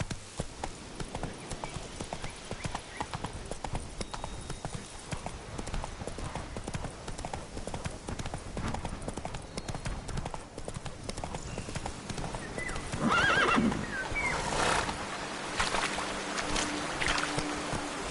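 Roach, the horse in the video game The Witcher 3: Wild Hunt, gallops with a fast, continuous clip-clop of hooves close by. Near the end a louder burst may be a brief whinny.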